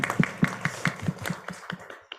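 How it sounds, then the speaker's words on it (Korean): A small audience at a church mission consulting session claps for a missionary, with sparse, fairly slow and roughly rhythmic hand claps sounding close and distinct for about two seconds before trailing off. "우리 선교사님의 안타까운 마음을 박수로 한번."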